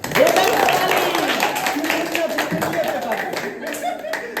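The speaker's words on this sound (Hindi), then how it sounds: "चुनमुनिया के लेल जोरदार ताली" Enthusiastic clapping from a group at a birthday party fills the clip, with voices and cheers mixed in underneath the applause.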